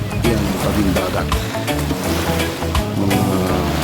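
Surf washes steadily at a seashore, a loud, close, continuous rush with periodic swells and no talk.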